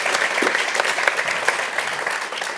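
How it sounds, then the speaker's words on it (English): A seated audience at a quantum computing panel event gives a steady, full round of applause for the panelists, continuous and fairly loud throughout with no talk over it. "Can we give them one more round of applause?"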